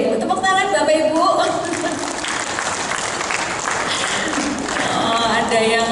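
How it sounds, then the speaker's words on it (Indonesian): An audience at a public consultation forum on Malang city's 2025 regional development plan applauds steadily and loudly for several seconds, with voices mixed into the clapping. "Tepuk tangan Bapak Ibu."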